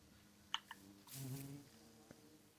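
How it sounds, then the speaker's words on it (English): Minecraft bees, including baby bees, make soft game buzzing: a faint, quiet hum with a few small clicks and pops, heard alone with no talk. "Oh look, there is a baby bee."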